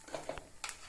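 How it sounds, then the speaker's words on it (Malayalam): A spoon stirs little millet upma in a pan, giving a few quick scraping strokes with a soft sizzle underneath, close and brief. "ഒന്ന് ഇളക്കാം."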